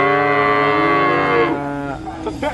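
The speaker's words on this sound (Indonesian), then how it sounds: "Ini ada sapi ya" A cow at a livestock market gives a long, loud, close moo that fades out, with faint market noise behind it.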